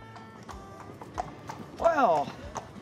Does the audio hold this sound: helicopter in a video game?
no